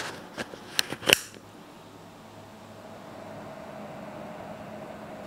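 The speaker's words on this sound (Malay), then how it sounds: "aku nak try dekatkan mikrofon pada kipas ni." The cooling fan of a GVM SD80D bi-color studio light runs close to the microphone. A few sharp handling clicks give way to a very faint, steady whir.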